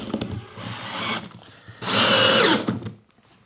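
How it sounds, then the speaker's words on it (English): A compact cordless drill driver drives a screw into a piece of wood, its motor whirring in a loud, steady burst with a rising then falling pitch, preceded by shorter lower-level mechanical noise. "when you want to screw something into a piece of wood"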